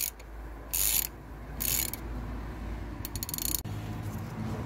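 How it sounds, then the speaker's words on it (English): Ratchet wrench tightening a bolt on a Ford CVH engine during valve stem seal work, giving two short bursts of rapid clicking, then quieter scattered clicks and a metallic clunk over a low steady background hum. "Just tighten it up, not loosen it, Andrew."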